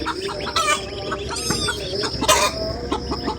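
A hen in a village home clucks loudly and insistently, close by, with several sharp squawking bursts over a steady background hum and some clattering.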